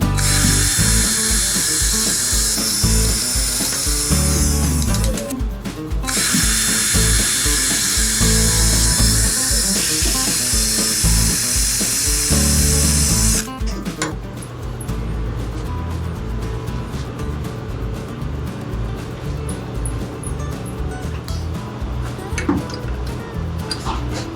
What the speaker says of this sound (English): I gotta clean off this paint so that we can get some nice welding action on it